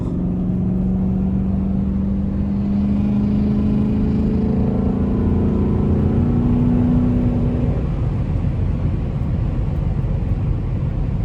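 A Chrysler 300C engine revs and pulls hard on a late-night drive, a loud continuous drone whose pitch climbs steadily then drops away, with no talking.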